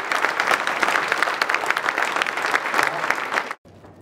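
An audience gives a guest a warm round of applause at a French community gathering, a dense and steady clapping that carries on for several seconds and then stops abruptly.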